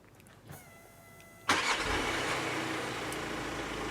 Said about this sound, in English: we'll get someone else up there to start the car up for us quickly